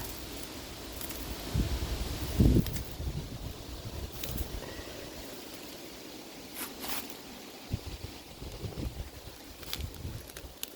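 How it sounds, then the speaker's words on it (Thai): Strong outdoor wind gusts through leaves while greens are gathered in the countryside, a broad rushing hiss that rises and falls, with a few close knocks and rustles from handling. "ลมแรงหน่อยนะคะวันนี้ค่ะ"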